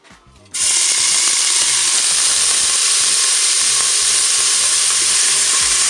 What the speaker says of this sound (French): mon huile est chaude, je vais pouvoir mettre mes oignons